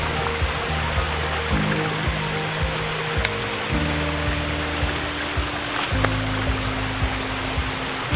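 A waterfall on a trail in Pedra Branca State Park pours in a steady, dense rush of water close by, with an unbroken hiss throughout.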